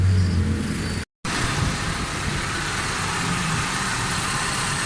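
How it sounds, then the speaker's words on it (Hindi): A Suzuki Alto 1000cc VXR with a starting and fuel fault runs after being started. Its engine holds a steady, loud idle close by, with a momentary break in the sound. "ये भाईजान गाड़ी स्टार्ट है।"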